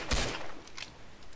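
Bursts of gunfire in a Roblox game, a loud volley followed by several quicker, quieter shots spaced out over a second and a half, with no voices.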